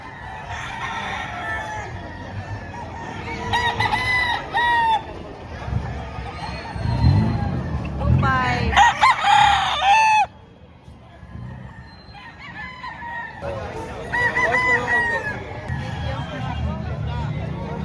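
Roosters crowing loudly and clucking at a busy chicken market in Padre Garcia, Batangas, with several crows close by among crowd chatter and people talking.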